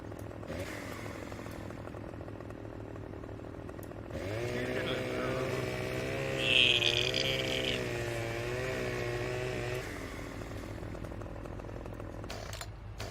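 A chainsaw in Farming Simulator 17 revs up and holds a steady, buzzing engine drone for several seconds, then cuts off, heard over a constant low background hum.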